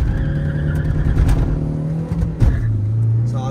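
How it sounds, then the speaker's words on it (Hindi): A Mahindra Scorpio N and a Hyundai Creta 2020 accelerate side by side in a drag race, with a loud, steady engine drone and rising revs, a brief tire squeal, close by. "तो ये चलो इसके साथ ये ड्रैग रेस स्टार्ट करते हैं दोनों गाड़ियों की"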